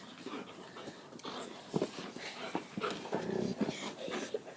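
A dog whimpers and pants softly close by during play, breathy panting broken by thin whines over a noisy background, fairly faint throughout.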